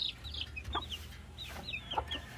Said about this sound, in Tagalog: Ito ay may mga lahing panabong.